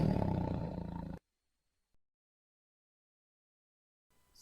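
A tiger roar, one loud, deep, rasping growl lasting about a second that cuts off abruptly into silence.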